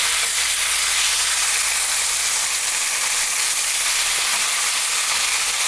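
Steak frying in an oiled pan over medium-high heat gives a steady, even hiss and sizzle with no pauses, close and fairly loud, and no voices over it.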